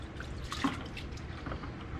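Really hot water running over the Stihl FS91 trimmer's Renegade blade, a soft close trickle with scattered drips, faint and continuous.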